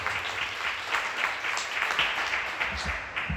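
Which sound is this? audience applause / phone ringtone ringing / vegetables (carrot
audience applause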